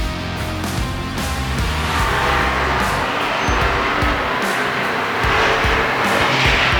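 Race cars roaring around the oval at Tomah Sparta Speedway, a continuous loud engine drone with cars passing close and running side by side, no talk audible.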